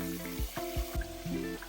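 Plantain slices frying in hot oil, giving a steady close sizzle with soft crackle throughout and a few low, rhythmic thumps mixed in.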